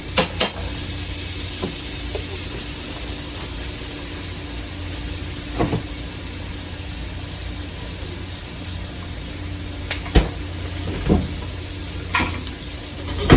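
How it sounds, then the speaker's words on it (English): Onion and garlic sizzle in a hot pan, a steady close hiss for the whole stretch, broken now and then by a sharp tap or clink. "while this onion and garlic is heating up"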